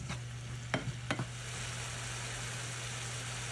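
Vegetables coated in olive oil, herbs and spices, stirred in a pan with a faint steady sizzle and a few quick scraping strokes early on.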